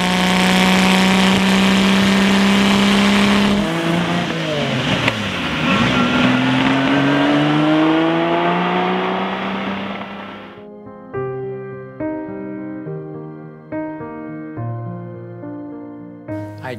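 A Lamborghini Miura engine screams at high revs with a strong whine, pitch climbing and dipping through accelerating pulls, then settles into a steady lower idle with blips; loud and close, no talk.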